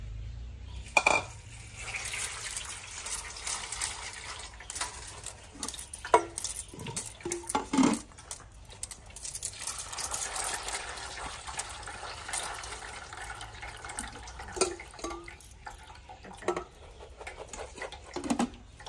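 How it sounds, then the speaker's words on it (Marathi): Shelled green peas being rinsed in water in a home kitchen, with soft splashing, sloshing and occasional clinks of a bowl or pan, moderately quiet and continuous with no talking. "वाटाणे आपले सोलून झालेले आहेत, आता आपल्याला ते धुवून घ्यायचे आहेत"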